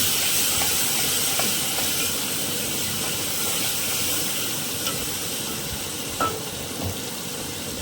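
Tomato pieces sizzling in hot oil for green chilli tomato chutney, a steady, dense hiss that fills the clip at close range with a few faint pops and no talk.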